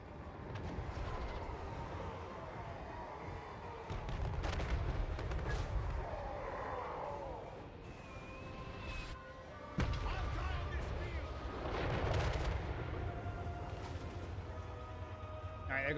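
Artillery pounding a city wall in Total War Warhammer III, with heavy booming impacts landing in bursts and a sharp crash near the tenth second, while a person talks over the battle.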